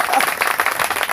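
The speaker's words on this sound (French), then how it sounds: "applaudissons pour le frère Jean-Pierre." Audience at a pastors' conference breaks into a short burst of dense clapping, close and fairly loud, with a voice mixed in.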